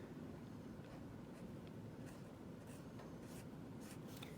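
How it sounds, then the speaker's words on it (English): Pen scratching across paper while drawing, a soft continuous scribbling with brief stroke accents over a steady low background hum; no talking. "And I'll draw a girl."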